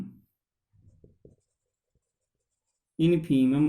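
Chalk or marker scratches on a board during a math lecture on Riemann integration: a few faint, short strokes, followed by a voice speaking.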